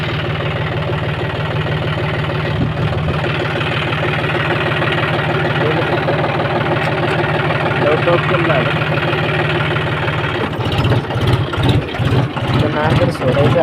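Tractor engine idling nearby with a steady low knocking rumble, turning rougher and choppier toward the end, with a voice talking over it.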